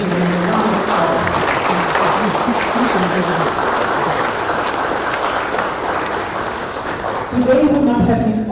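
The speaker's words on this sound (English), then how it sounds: "I invite us here to join me to extend our appreciation and a round of applause." Sustained applause from an audience at a Fiji livestreamed event on violence against women and girls, a steady dense wash of clapping lasting throughout with voices mixed in and a louder burst near the end.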